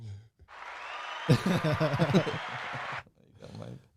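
Canned applause from a pre-recorded crowd track bursts in loud and dense for about two seconds, with talking voices before and after it and a short muffled exchange trailing at the end.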